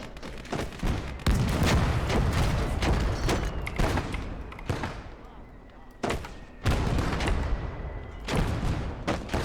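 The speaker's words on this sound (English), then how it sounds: "Just hope that we are able to get that one tank that is constantly firing on us." Heavy battle noise in the video game Gates of Hell: Ostfront, with a tank firing: dense, continuous booms and gunfire, loud and close, with repeated heavy blasts and voices talking over it.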